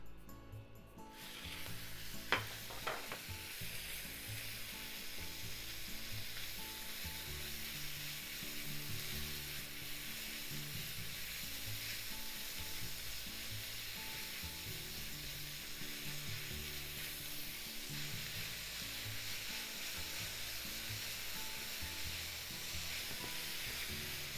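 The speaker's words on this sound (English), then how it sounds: "In the same frying pan, let's cook the pork" Pork sizzles and crackles steadily in a hot frying pan for a kimchi stir fry, with a couple of brief clinks of a utensil near the start.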